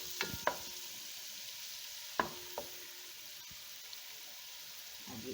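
Garlic fries in a pan with a steady, soft sizzle while a spoon stirs and clinks against the pan a few times, quiet and close with no talking.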